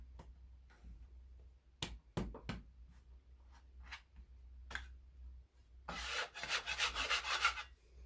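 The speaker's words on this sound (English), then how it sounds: "I'm using my bench scraper to help me out." A bench scraper works plain artisan bread dough on a board, giving scattered soft scrapes and taps, then a longer run of rough rasping near the end.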